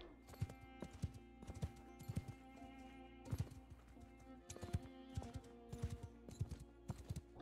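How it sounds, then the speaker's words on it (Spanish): Horse hooves clip-clop in rhythmic bursts in the video game Mount & Blade II: Bannerlord, steady footfalls repeating over a low ambient game drone, with no talk. "¡Oh, un caballo!"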